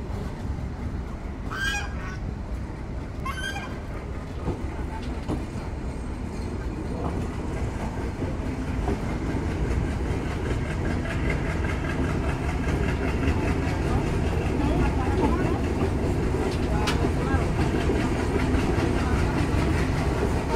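Rupsha Bangla Express, led by a 65-series locomotive, pulls out of Benapole station: a steady, dense rumble that grows slowly louder, with a few brief horn-like blasts early on.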